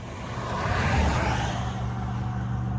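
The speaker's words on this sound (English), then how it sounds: "Tow truck just showed up" Tow truck arriving beside a broken-down semi on the roadside, a steady low engine rumble that swells slightly and holds close and loud, alone without talk.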